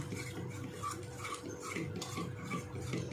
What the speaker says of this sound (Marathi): दही छोटे दोन चमच घेतले आम्ही पटकन लगेच मिक्स करून घ्यायचं